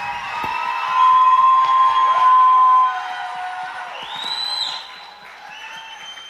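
A church talk-show audience breaks into clapping and cheering, with a sustained whistle and scattered shouts over the applause, which swells, dips, rises again and then tapers off.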